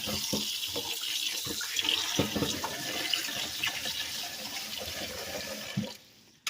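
Cold tap water runs into a bowl while homemade butter made from raw cream is washed a third time. It pours steadily with some splashing and handling sounds, then cuts off near the end.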